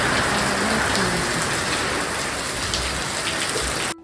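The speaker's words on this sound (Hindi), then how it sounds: "और एक बार आप सुन लीजिए कि कितनी जोर से बारिश हो रही है।" Heavy rain pours down in a dense, constant hiss and patter, loud and close, with no voices.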